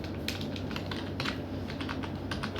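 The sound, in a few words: typing Bangla text on a computer keyboard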